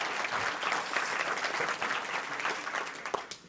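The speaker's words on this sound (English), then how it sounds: "Can we get a quick round of applause for our 3 volunteers?" A talk audience claps for three volunteers, a dense, steady burst of applause close by that lasts a few seconds and thins out at the end.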